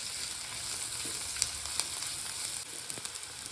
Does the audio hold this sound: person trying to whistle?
no